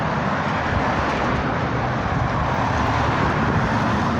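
Steady road traffic heard at a roadside crossing point, a continuous broadband rumble and hiss of passing vehicles with no talk.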